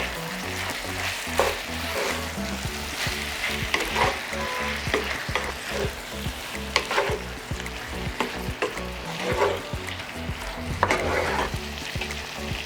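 Pork with ginger fries in a pan, a steady loud sizzle broken by repeated scraping stirs of a utensil against the pan.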